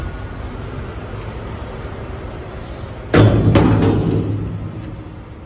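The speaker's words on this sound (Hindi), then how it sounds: "ये जाल मैं खोल रहा हूँ, अब इसके सारे बोल्ट खोल दिए हैं और इसको मैं बाहर निकाल रहा" An unbolted grille cover is pulled free from an Eeco van: a sudden loud clatter and thump of the panel coming loose, with a few sharp knocks and a fading rattle after a stretch of quiet background noise.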